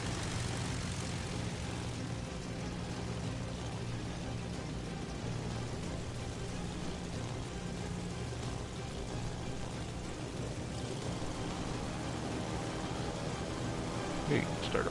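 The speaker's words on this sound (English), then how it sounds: "full squadron of bombers" A full squadron of bomber planes drones steadily in World of Warships Legends, a continuous propeller-engine roar filling the whole stretch with a voice talking over it.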